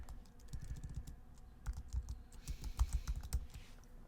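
Typing on a computer keyboard: a steady, close run of soft key clicks at an uneven rhythm, heard alone without talk.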